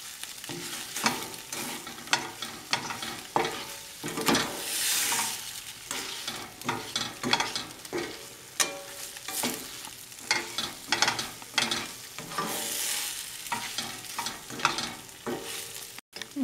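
Raspberry chipotle tofu fries in a pan with a steady sizzle while a utensil stirs and scrapes through it in repeated close strokes.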